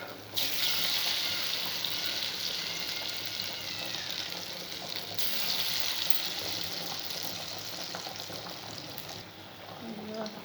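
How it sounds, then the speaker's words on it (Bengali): Pakoras deep-fry in hot oil with a constant loud sizzle and crackle, bursting up at the start and again midway. "এবার আস্তে আস্তে করে পকোড়াগুলো ভেজে নেব"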